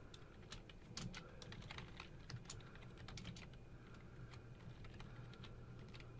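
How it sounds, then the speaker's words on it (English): Typing on a computer keyboard while entering HTML link text, a steady run of quick, light key clicks close by over a constant low background hum. "I'm going to type the text that I want the link to be on."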